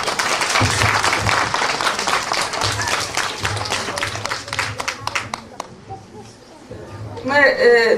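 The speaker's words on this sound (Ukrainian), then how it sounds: "Оплесками разом вітаємо всіх." At a St. Nicholas celebration, an audience loudly applauds a puppet theatre troupe after their show, with dense, steady clapping that thins out near the end before a voice begins speaking.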